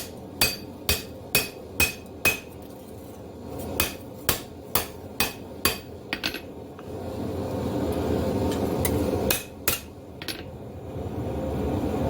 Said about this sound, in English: Hammering it flat against the face of the anvil.